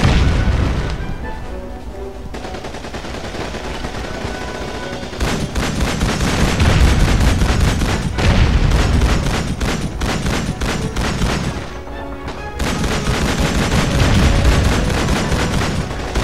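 Machine gun fire in Call of Duty 2 on PS2, loud rapid rattling bursts with heavy booms in a dense battle, the firing pausing briefly twice before resuming just as intensely.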